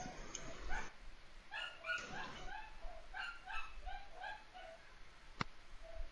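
A dog barks and yips repeatedly in short, fairly faint bursts, somewhat distant, over a steady background hiss, with one sharp click near the end.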